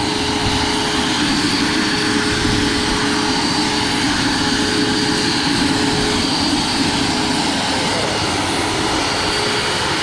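The electric ducted fan of an RC MD 600N helicopter spins with a loud, steady, broadband whooshing roar and a faint constant tonal whine, unbroken and close.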